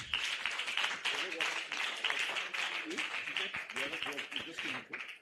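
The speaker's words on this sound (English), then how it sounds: "Please, can we just do one more clap for all of them?" Audience applause fills the hall at the opening ceremony of a scientific conference in Nigeria, a dense, steady wash of clapping lasting throughout, with voices and faint talk mixed underneath.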